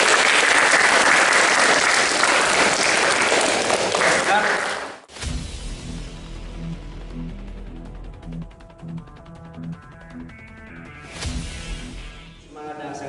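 Loud audience applause at a karate kata coaching clinic, a dense burst of clapping for about five seconds that cuts off abruptly, followed by thuds, murmuring room noise and another short clap burst.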